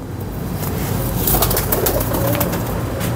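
Pigeons coo among a dense, noisy background, with faint wing flutters and calls blending into a continuous loud wash.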